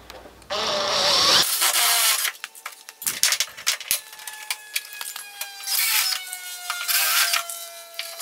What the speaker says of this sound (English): So I'm just gonna tech screw them in for now.